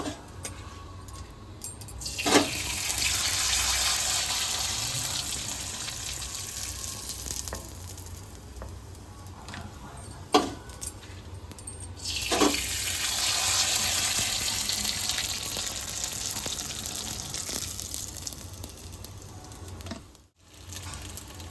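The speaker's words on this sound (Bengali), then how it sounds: "কয়েক সেকেন্ডের মিনিটেই কিন্তু ভাজা হয়ে যায় পাঁপড়গুলো" Potato papad crackles and sizzles in hot oil in steady bursts, with brief pauses and a few clinks as the crisps are moved and lifted out.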